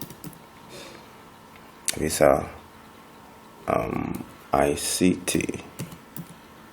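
Typing on a computer keyboard while making a text box in MS Publisher, bursts of close key clicks in short runs, with a person talking over parts of it.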